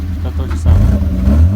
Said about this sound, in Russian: Не набирает обороты она вообще нифига.